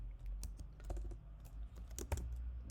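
Quiet, steady typing on a computer keyboard while writing Java code, a rapid irregular patter of close key clicks with no talking.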